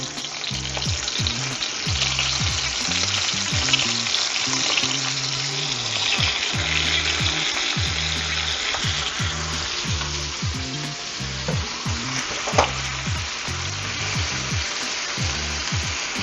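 Chopped leeks sauté loudly in a hot pan after seared pork loin, a dense continuous sizzle with rhythmic scraping strokes of a utensil throughout and one sharp clack near the end.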